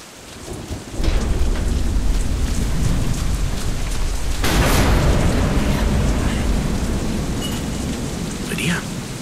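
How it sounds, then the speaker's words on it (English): Storm in the video game Deadlight: heavy rain pours steadily while a deep rolling thunder crash swells in about a second in and another surges midway, loud and close, with no voices. "Storm."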